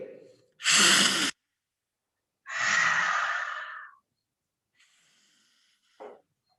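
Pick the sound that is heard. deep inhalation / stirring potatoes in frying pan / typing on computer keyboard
deep inhalation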